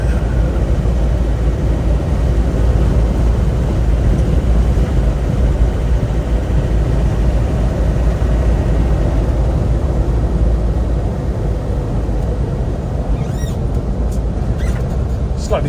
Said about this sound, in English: These 300 TDIs always take a while to warm up.